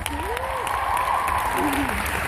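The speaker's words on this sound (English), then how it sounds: "If you're with us, a round of applause." Audience applause at an industry talk, sustained broadband clapping under a tonal whistle or chirp-like sound, holding steady throughout.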